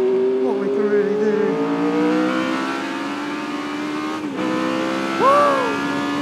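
A 1982 Williams FW08 Formula 1 car with a Cosworth DFV engine roars close by on a lap, its high-pitched engine note rising through the gears with shifts and a brief dip before climbing again.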